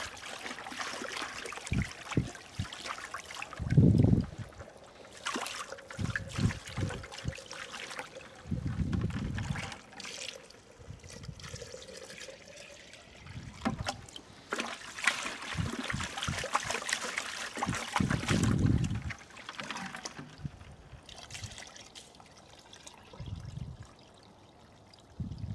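Maple sap trickles down a reverse osmosis membrane during end-of-season cleaning, a soft steady dribble of water with intermittent louder splashing gurgles and clunks, no talking.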